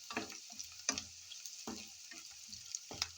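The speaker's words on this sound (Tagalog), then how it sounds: "Let's saute now onions" Onions and garlic sauté in a pan, with stirring scrapes and soft sizzling bursts recurring at a steady rhythm, fairly quiet and close.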